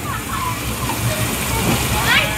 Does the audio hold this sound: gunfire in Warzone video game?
no